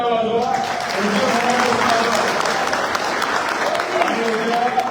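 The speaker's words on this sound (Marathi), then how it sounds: "देखील टाळ्या वाजवा." A crowd clapping at a municipal council election victory celebration at a BJP office, dense steady applause mixed with voices of people talking and cheering, close and loud.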